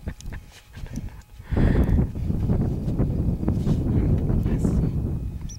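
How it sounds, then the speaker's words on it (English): Wind gusts buffet the microphone outdoors in a loud, continuous low rumble that surges after a quieter start, with a voice briefly heard early on. "Gets a little windy."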